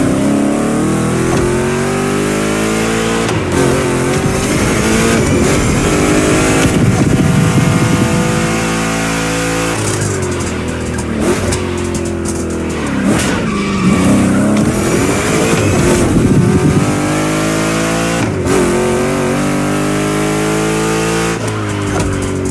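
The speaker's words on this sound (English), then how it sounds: "Two Chevys, two big blocks, but only one winner." Two Chevrolet big-block cars racing in The Crew Motorfest: loud, continuous engine roar with repeated rising revs through gear changes, gear shifts and occasional tire squeal, close and dominant throughout with no talk.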